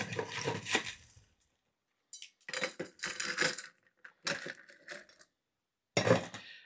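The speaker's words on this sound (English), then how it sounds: "And now a little bit more ice." Ice cubes dropped into a glass while an Aperol Spritz is being made, heard as several separate bursts of clinking and clattering with short silences between them, close and fairly loud.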